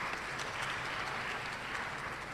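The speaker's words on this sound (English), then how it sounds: "I'm happy you're clapping for me" Audience clapping fills the room with a steady, dense patter of many hands, sustained evenly from start to finish with no voices above it.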